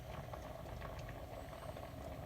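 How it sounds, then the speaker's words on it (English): Meat fries in a pan of rapeseed oil for spaghetti sauce, giving a faint, steady sizzle with soft crackling pops that run evenly throughout. "I'm gonna start by frying the meat"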